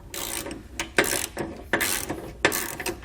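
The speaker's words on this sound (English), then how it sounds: "then we'll go back and tighten the bolts holding the board to the brackets" A socket ratchet clicks in several quick bursts while tightening the half-inch bolts that hold a Westin E-Series round nerf bar to its brackets on a 2019 Chevrolet Silverado 1500, close and fairly loud with no talk.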